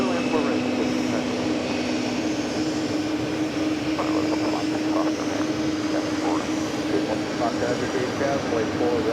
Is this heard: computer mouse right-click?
no